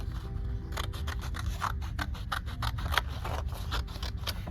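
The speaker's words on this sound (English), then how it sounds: "And then I'm gonna cut right on that line." Scissors cutting paper along a drawn line for a collage: a series of crisp snipping cuts in an irregular rhythm, close and fairly quiet over a soft background hiss.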